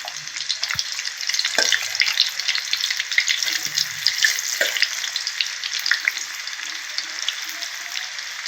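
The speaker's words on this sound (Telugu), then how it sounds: "కార్న్ అంతా దీనిలో వేసి డీప్ ఫ్రై చేసుకోవాలి" Corn kernels coated in batter bubble and hiss as they deep fry in hot oil, cooking until crispy. A dense, steady sizzle runs throughout, with a few faint clinks and splashes near the start.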